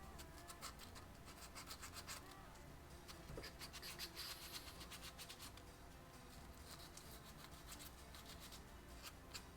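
Sandpaper smooths a splintery wooden edge while building a pinball machine, making soft, continuous rasping scratch strokes close by.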